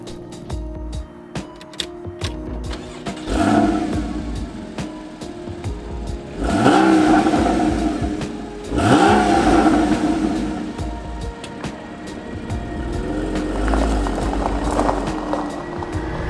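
A Porsche Cayman S (981) with a naturally aspirated flat-six fires up and revs in a few loud, rising bursts around the middle, then settles into a steady close idle.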